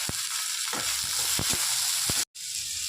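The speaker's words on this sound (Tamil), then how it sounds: "இந்த வெங்காயம் வதங்கட்டும்" Steady sizzling of onions frying in a hot pan for Chettinad chicken gravy, with occasional scraping stirs and clinks, briefly cutting out near the end.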